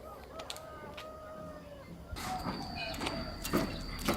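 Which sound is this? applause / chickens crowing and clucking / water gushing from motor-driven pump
chickens crowing and clucking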